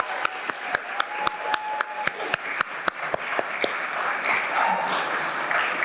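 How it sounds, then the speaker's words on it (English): An audience at a graduation ceremony applauds the graduates, with sharp individual claps standing out over a fuller wash of clapping that blends into steady crowd applause. "give one more loud applause to our graduates"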